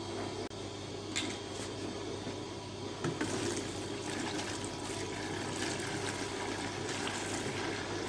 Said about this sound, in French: Je refais un seau de mélange eau et essence.